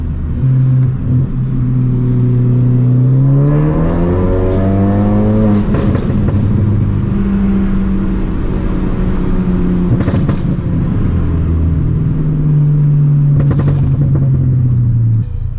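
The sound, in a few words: Ford Focus ST engine while driving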